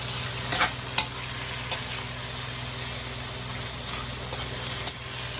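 Liver sizzles steadily in a hot pan while a utensil stirs it, with several sharp scraping clinks at irregular intervals over the constant frying hiss; no one talks.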